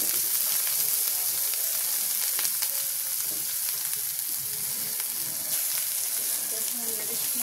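Hilsa fish fry in hot oil with spices, giving a loud, steady, close sizzle that runs without a break, with faint stirring scrapes now and then.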